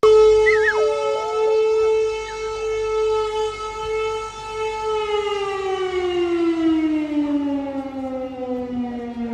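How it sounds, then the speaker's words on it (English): A wailing air raid siren in Ukraine rises then holds a long, slowly falling tone, loud and sustained with no voices. "I came across the air raid sirens came started to go off."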